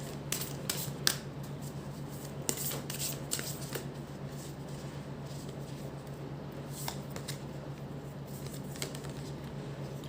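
Tarot cards shuffled softly and continuously by hand, a quiet run of light flicks and riffles with a low steady hum underneath.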